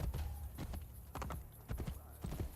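Horse hooves clip-clopping in Assassin's Creed Brotherhood, a steady trotting patter at moderate loudness with a brief tonal game sound early on.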